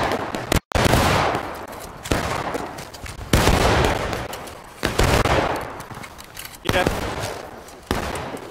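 Loud, close musket gunfire in the Civil War game War of Rights comes as a series of sharp cracks and ragged volleys, each trailing off in a rolling echo. Voices talk between the shots.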